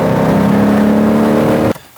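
A car engine, an older design of modest output, holds a loud, steady revving drone at roughly 3,500 RPM, then cuts off abruptly near the end.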